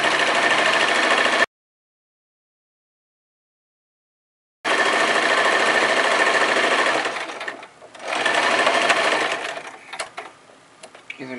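A sewing machine stitches the side seams of a long lycra dress with a slit in close, loud, rapid bursts. A silent gap separates the bursts, and the later runs pause and restart.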